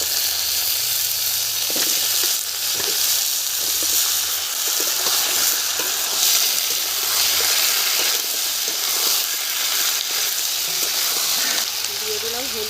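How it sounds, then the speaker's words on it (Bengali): Onion, potato and taro fry together in hot oil with cumin, a loud continuous sizzle and hiss close up, broken by occasional stirring scrapes. "পেঁয়াজ আলু কচু সব একসাথে সুন্দরভাবে ভেজে নেব"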